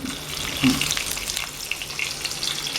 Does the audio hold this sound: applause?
no